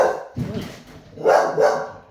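A dog barks from inside a home kitchen: a short yip and then two louder, closer barks in quick succession.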